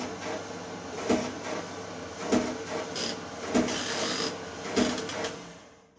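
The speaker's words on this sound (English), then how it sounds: "you'll hear a scraping as the drum rotates" A worn drum bearing in a 3kg tumble dryer scrapes and knocks as the drum turns, a grinding rub that peaks in regular thumps roughly every 1.2 seconds, close and moderately loud, fading at the end.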